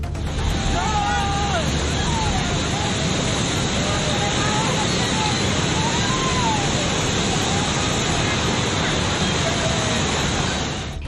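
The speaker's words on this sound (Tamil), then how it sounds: "அப்பகுதியில் இருந்த ஆற்றில் வெள்ளம் கரைபுரண்டு ஓடியது" A river in Himachal Pradesh, flooded after a cloudburst, rushes past with a loud, unbroken roar of churning water, and a voice speaks over it throughout.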